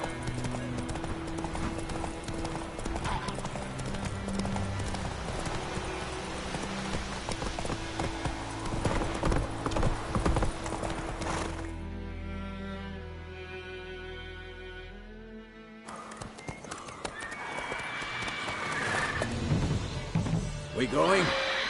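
A horse's hooves clip-clop and gallop in the video game The Witcher 3, with rhythmic hoofbeats over rain and game sounds, and character voices talking at times.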